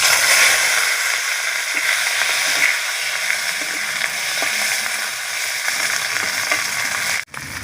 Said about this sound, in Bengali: চিংড়ি মাছটা ভাজা করি।